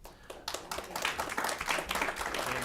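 Audience clapping at a county Board of Commissioners public meeting, a brief burst of scattered applause from a small crowd heard in a room at moderate distance.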